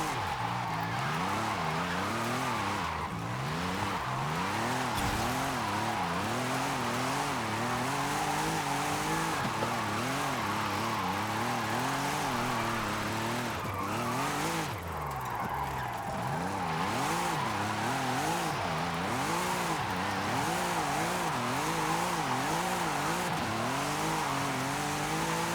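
An Audi RS5 drifting in Forza Horizon on snow tires, its engine revving and wavering continuously while the tires squeal loudly and steadily throughout, with no talking.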